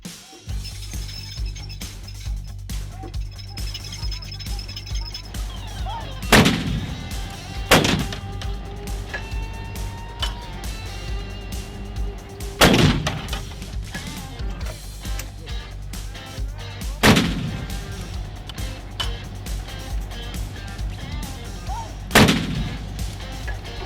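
Artillery guns firing in an archival recording, with a battery of up to six guns in use: five loud, sharp blasts arrive at roughly five-second intervals, each trailing into a rumbling decay over a steady low background hum.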